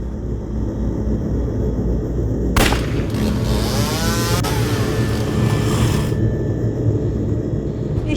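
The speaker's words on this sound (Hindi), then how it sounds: "मम्मी जी, यहाँ से एक बाइक स्पीड से गई, लगता है साइलेंसर फट गया होगा उसका।" A motorbike speeding past in a crime drama scene, its roar sweeping in over constant loud background noise with a sharp bang-like onset as the silencer bursts, then fading after a few seconds.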